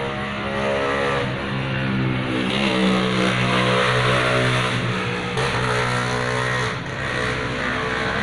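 Honda Scoopy 2021 scooter with a rough-running engine, heard close with a harmonic whine that shifts pitch as the engine speed changes, sounding continuous and mechanical with no voices.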